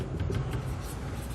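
Marker or chalk writing on a classroom board during a chemistry lesson, a close, steady scratchy stroking that runs without a break for over a second.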